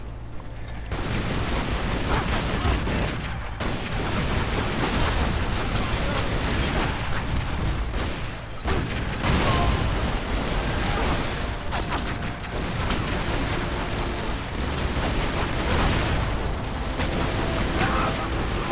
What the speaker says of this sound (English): That was a delayed reaction on that explosion.